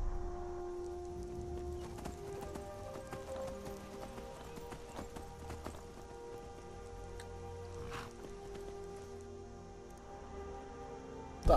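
Horse hooves clip-clop in a steady rhythm while riding in Skyrim, close and moderately quiet, over a soft ambient music bed with a faint patter like light rain.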